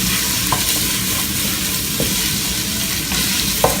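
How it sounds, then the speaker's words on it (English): Garlic and ginger fry in a hot pan for a curry, a steady loud sizzle with occasional light scrapes and stirring knocks, no talk. "Now I'm going to add the garlic and the ginger."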